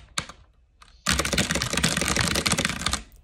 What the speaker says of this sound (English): I kept typing and typing until I got this.